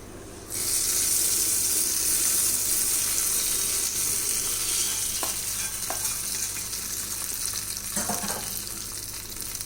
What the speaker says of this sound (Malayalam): നമുക്ക് കടുക് താളിച്ചത് ചട്നിയിലേക്ക് ഒഴിച്ചു കൊടുക്കാം